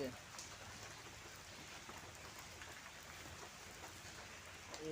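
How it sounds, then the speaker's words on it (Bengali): Steady rain falls in Tripura, a dense, even hiss of drops on surfaces that carries through the whole stretch at a moderate, distant level with no break. "ভাই অক্ষণে বৃষ্টি পড়তেছে"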